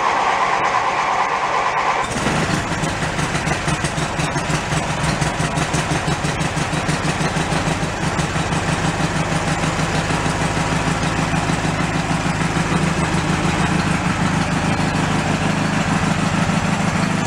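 A Snapper riding mower engine cranks and catches after about two seconds, then settles into a steady, loud, throbbing idle that runs unbroken to the end.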